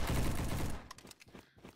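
Rifle fire in an online first-person shooter, a three-shot tap from a DMR-style rifle, heard as a dense loud burst of gunfire at the start that cuts off into scattered quieter game sounds.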